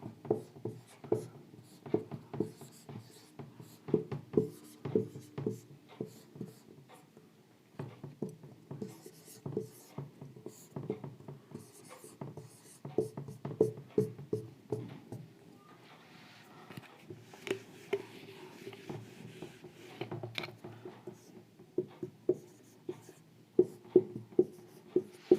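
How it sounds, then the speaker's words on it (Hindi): Pen or marker strokes writing numerals by hand on a board or page during a German time lesson, a steady run of short scratchy taps and scrapes, close and fairly quiet, with no one talking. "पहले मैं एक बारी सारे डिजिट लिख लेती हूँ"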